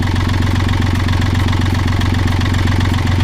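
A boat's inboard engine idles steadily to warm the oil before an oil and filter change, a loud, constant low rumble close by with no talking.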